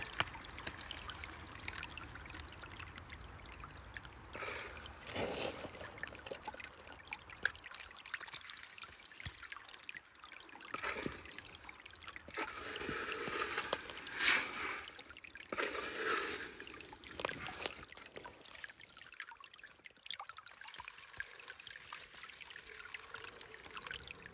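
Water flows and trickles through a gold sluice box outdoors in winter in Oregon, a soft continuous babble that swells and eases, close by and alone.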